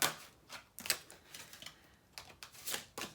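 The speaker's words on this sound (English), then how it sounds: "sorry, pulling the cards here" Tarot cards being pulled and handled, a series of soft crisp clicks and snaps in an irregular rhythm, close and quiet.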